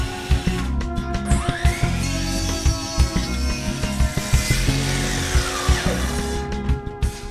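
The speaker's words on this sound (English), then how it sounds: "More holes are drilled in the support table for this new position." A power drill whirs and bites into a wooden support table in repeated short bursts, close and loud, with clattering mechanical noise between passes.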